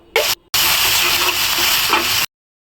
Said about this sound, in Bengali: হাফ কাপ পরিমাণে সাদা সরষা বাটা দিয়ে দিব